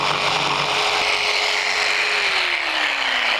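A hand saw makes a coping cut along the fillet of a baseboard profile at an inside corner, a steady, close, continuous rasping scrape with no voices.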